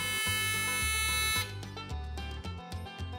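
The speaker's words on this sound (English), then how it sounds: "A long flash of the coolant and fuel warning lights and buzzers will confirm the reset." A loud, steady electronic coolant and fuel warning buzzer from a GoWesty SmartGauge drones continuously over a few short pulses and beeps, confirming a reset.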